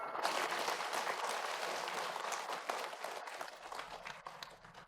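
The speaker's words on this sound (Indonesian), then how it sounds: "Tepuk tangan semua untuk Mbak Siti, boleh?" A studio audience applauds throughout, a dense, steady wash of clapping that fades slightly toward the end.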